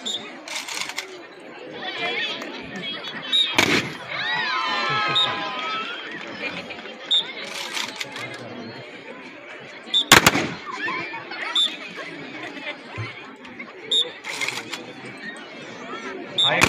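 Rifles firing in a training demonstration from low and high squat positions at a firing range, with several sharp, loud shots spaced through a steady murmur of voices and chatter.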